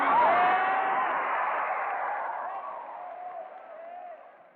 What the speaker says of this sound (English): there continues to be a lot of cheering over this alleged healing that happened